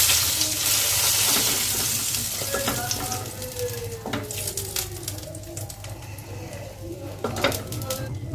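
Pabda fish sizzling and frying in hot oil in a home kitchen, a steady close crackle with faint utensil clinks throughout.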